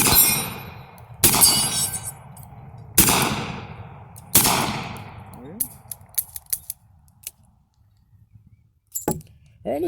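Four loud, sharp revolver blasts from a Smith & Wesson Governor, evenly spaced about every second and a half, each with a long ringing decay, followed by quieter clicks and handling noises and a faint voice.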